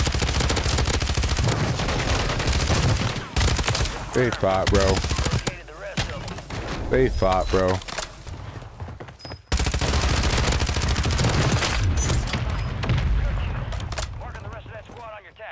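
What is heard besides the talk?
gunfire in video game Warzone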